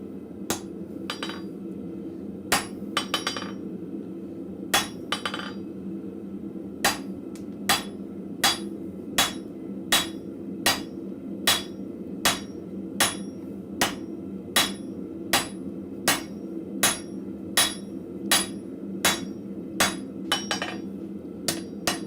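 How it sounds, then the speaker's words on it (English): A blacksmith in a forge hammers metal on an anvil, with sharp ringing strikes that start in irregular clusters, then settle into a steady, evenly spaced rhythm of single blows over a low background hum. "I'm trying to find a nice spot on my anvil."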